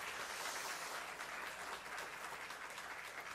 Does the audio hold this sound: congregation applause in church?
yes